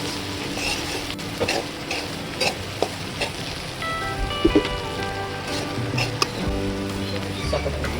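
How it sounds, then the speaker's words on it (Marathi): Vegetable bhaji being stirred in a pan for a Marathi home lunch thali, with a steady oily sizzle and soft scraping strokes of the spoon and a few sharper clinks against the pan, close and continuous. "भाजी आपली मिक्स करून घेऊया"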